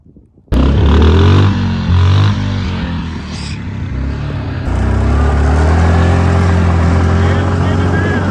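A Yamaha Banshee ATV being ridden, its engine roaring loud and close with rising and falling revs and a sudden throttle-up partway through, voices faintly mixed in.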